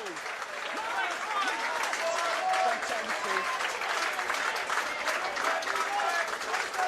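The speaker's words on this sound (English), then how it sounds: "Rich applause for their first efforts." Rugby league stadium crowd applauding substituted players, a steady sustained wash of clapping from a large crowd at a distance, with a commentator talking over it throughout.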